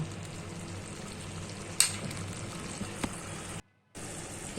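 Spices with chili and turmeric powder frying in a pan for egg-potato korma, a steady moderate sizzle with a few stirring scrapes and a brief silent gap near the end.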